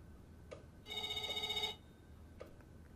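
A telephone rings once in the video game Else Heart.Break(): a single bright, warbling electronic ring lasting just under a second, clear and fairly loud over a quiet background.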